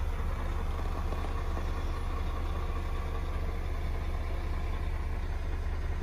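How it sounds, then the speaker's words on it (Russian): KAMAZ NEO truck diesel engine idling at a roadside stop, a low, steady, continuous rumble heard alone at moderate-to-faint level. "И звук мотора такой"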